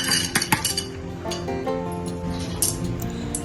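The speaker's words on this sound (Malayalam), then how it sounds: "ഒരു പാത്രത്തിലേക്ക് 1/2 കപ്പ് പരിപ്പെടുത്ത് നന്നായി കഴുകണം" Half a cup of dal being washed in a kitchen vessel gives a few quick, light clinks and taps of metal and glass, followed by softer scattered rattles, fairly quiet and close with no voices.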